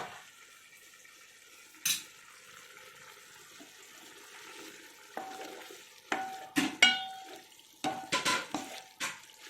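A spoon stirs chicken biryani masala simmering in a pot, giving several scraping, clattering stirs and bursts of wet sizzling after a quiet stretch with only a faint bubbling.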